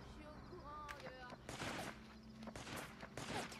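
Enemy gunfire in inFAMOUS 2 pops out in rapid volleys, loud bursts with short gaps, over game ambience and faint voices.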